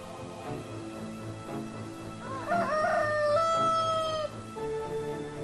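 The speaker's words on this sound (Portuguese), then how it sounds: "antes do galo cantar de manhã" A rooster crows once, a clear cock-a-doodle-doo rising and holding, over faint rustling and background noise.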